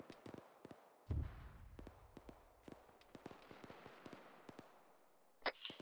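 Mortar shells exploding in the military shooter Arma 3: one heavy low boom early, then a sharper blast near the end, amid scattered distant gunfire cracks during a battlefield fight.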